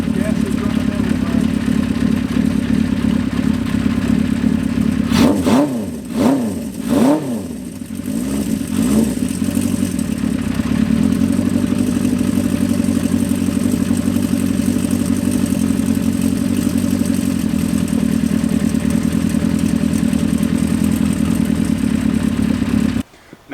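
A Honda CB400F cafe racer engine runs close by at a steady idle, with a few quick throttle blips that rise and fall early on, then settles back to an even rumble.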